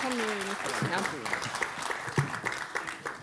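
An audience applauds the mayor of Monéto at an energy conference, the Assises de l'Énergie 2023. A voice speaks at the start, then a dense, steady wash of clapping continues to the end.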